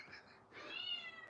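A pet cat lets out a couple of drawn-out meows close by, fairly faint, the second one longer and rising.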